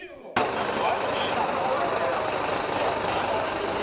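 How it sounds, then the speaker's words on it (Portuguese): After a brief pause, city buses roll into a depot yard in Londrina at dawn, heavy engines rumbling and hissing in a loud, continuous wash of noise close by. "os ônibus da madrugada começaram a chegar ao pátio"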